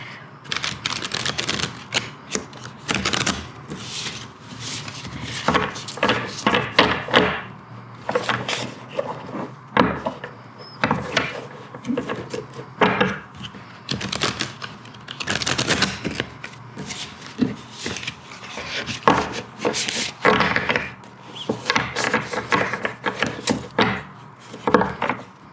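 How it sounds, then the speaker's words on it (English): Tarot cards are shuffled by hand in repeated bursts of dense riffling and flapping, running steadily for about half a minute at close range with no talk. "let's shuffle 3 times"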